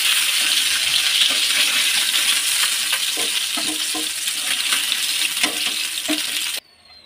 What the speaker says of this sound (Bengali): এবার অপর পিঠটাও ঠিক একইভাবে ভেজে নেব